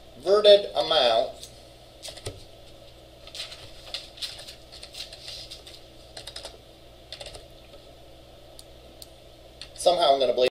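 Computer keyboard typing during a web database class, bursts of quick clicky keystrokes up close, louder flurries at the start and end with lighter tapping between.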